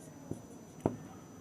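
A pen or chalk taps and scratches twice while someone writes numbers for a statistics lesson, two short quiet marks against a hushed room.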